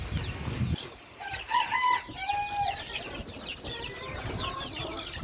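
A laying hen clucks repeatedly in a series of short, rhythmic calls, a chicken that had been paralysed and has now recovered, with some crowing-like calls and other fowl sounds mixed in, close and moderately loud.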